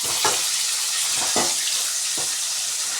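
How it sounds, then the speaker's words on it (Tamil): Onions and chopped tomatoes sauté in hot oil for a South Indian fish curry, giving a loud, even sizzle broken by about four spatula strokes against the pan. "போட்டுட்டு தக்காளியை கட் பண்ணி வச்சுருந்தோம்ல, அதை போட்டுட்டு நல்லா வதக்கிக்கலாம்"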